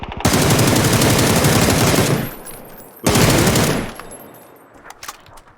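Automatic gunfire in the PUBG video game, two loud sustained bursts close by, the second after a brief gap, followed by scattered fainter distant shots.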